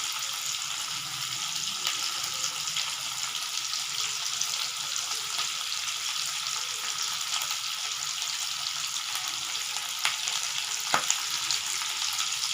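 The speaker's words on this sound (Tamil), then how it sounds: "நல்லா வதங்கணுங்க." Mushrooms and onions for a mushroom 65 gravy sauté in a pan with a constant, fairly loud hiss and sizzle and a few faint scrapes of stirring.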